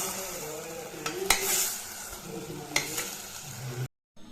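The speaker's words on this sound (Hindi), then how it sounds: "इधर बन रही है आलू मटर की सब्जी" Aloo matar sabzi cooks in a pan with a low continuous sizzle, broken by a few sharp scrapes and clinks of a spoon stirring before it cuts off abruptly.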